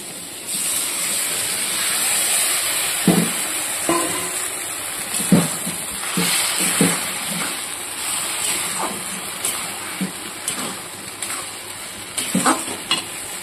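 Rice paste water poured into a hot pan while cooking Bengali food, giving a steady sizzle under repeated stirring scrapes and spoon knocks close by.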